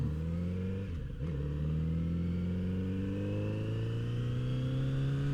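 A Kawasaki Z900 RS motorcycle accelerates hard, its engine note rising in a steady climb after a brief dip. The engine is close and loud, with wind roar under it and no voices.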